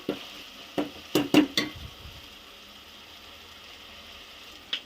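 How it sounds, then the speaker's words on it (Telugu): Ginger garlic paste frying in a pan for a spicy head curry, a soft sizzle under a cluster of sharp scraping stirs and spoon clinks early on, then a quieter background hiss with one more clink near the end. "అల్లం వెల్లుల్లి పేస్ట్ అనేది బాగా వేయించుకోవాలండి."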